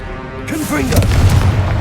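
A Confringo fire spell fired in Hogwarts Legacy, a loud booming blast that erupts sharply after a brief quiet moment and then rumbles and crackles for about a second, up close.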